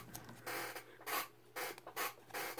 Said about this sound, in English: That is my chair. I am sorry for that noise.